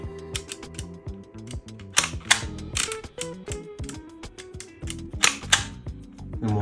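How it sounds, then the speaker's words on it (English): A trigger-operated mechanical typewriter typing a letter, giving a dense run of close, loud clicks, clacks and ratcheting gear noises in irregular bursts, with sharper snaps near the middle and end. "you squeeze this trigger to type the current letter"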